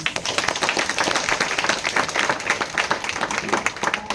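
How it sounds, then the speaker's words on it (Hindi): A church congregation claps loudly in praise, a dense, steady roar of many hands that lasts throughout without a break. "परमेश्वर जो हमारा स्वर्गीय पिता है उसके लिए बड़े जोर से ताली बजाएंगे हम"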